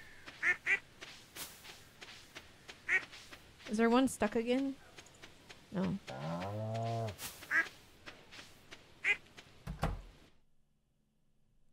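Ducks quack on a farm in the video game Stardew Valley, several short nasal calls scattered through the clip, with a longer honking burst in the middle, while a person talks briefly over them.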